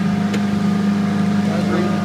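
A boat motor idles with a steady low hum and a faint buzzing drone, running continuously with no pauses.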